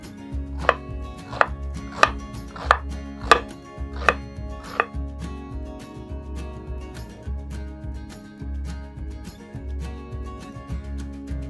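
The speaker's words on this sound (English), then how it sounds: "I'm going to dice them up pretty small" A knife dicing onions chops rapidly against a cutting board, a quick run of about ten sharp taps, then steadier quieter chopping over a low background hum.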